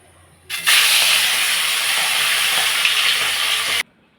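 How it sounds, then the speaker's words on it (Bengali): Fish rubbed with salt and turmeric hits hot oil and sets off a sudden loud, steady hiss of frying that lasts about three seconds, then cuts off abruptly. "মাছটা ভেজে নেব"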